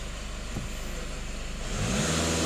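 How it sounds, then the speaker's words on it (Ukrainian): Volkswagen Passat B8 with a 2.0 TDI EA288 diesel engine is revved while stationary, its steady idle drone climbing into a louder, fuller rev near the end, close and continuous with no talk. "Даємо обертів, емітацію, що машина їде."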